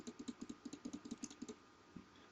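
Rapid, quiet clicks of a computer mouse, about a dozen evenly spaced taps in quick succession followed by one last click, close and soft.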